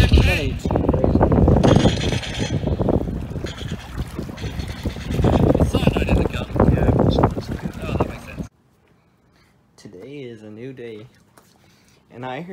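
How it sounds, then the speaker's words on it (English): Gusty wind buffeting the microphone during a small boat ride on open water, loud rough roaring bursts for several seconds, then cutting out to quiet with a person talking. "It gets windy every now and then."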